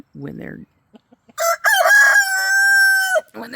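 A rooster crows loudly with a long, drawn-out call, preceded by a few soft clucks and followed by another short burst of clucking.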